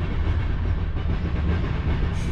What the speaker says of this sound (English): the train is going by now